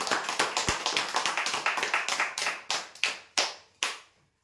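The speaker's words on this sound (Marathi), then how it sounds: "जोरदार टाळ्या होत्या सर्वांसाठी." A small crowd at a prize draw breaks into a burst of applause, quick close claps that thin out into a few scattered final claps and then stop.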